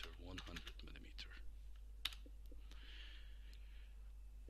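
Quiet key taps on a NexT 3.0 CNC control keyboard while entering values, a few soft clicks and one sharper tap over a low steady machine hum, with faint breathing-like noise.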